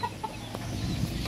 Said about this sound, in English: It's a farm hens, farm chicks.